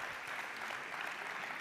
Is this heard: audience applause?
yes